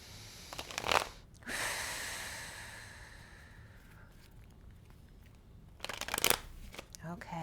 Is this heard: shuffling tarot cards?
yes